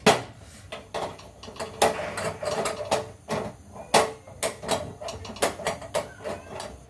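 The stiff knob of a new gas stove being turned, giving a string of sharp mechanical clicks and ratchety snaps in an irregular rhythm, close and fairly loud, with no speech.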